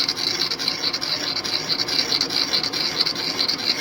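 A drill bit used as a reamer grinds through a bronze arbor bushing on a Clausing 8540, giving a steady close rasping scrape with a constant high-pitched whine running throughout, no pauses.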